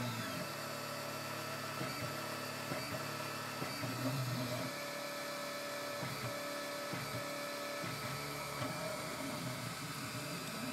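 A Dagoma Magis 3D printer probes its print bed, giving a steady motor whine with a sustained tone, punctuated by soft periodic stepper movements and small clicks, close and moderately quiet with no speech.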